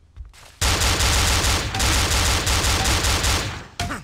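Glock pistol fire in the horror game Cry of Fear, a rapid, loud, continuous burst of shots lasting about three seconds, followed by a short final blast.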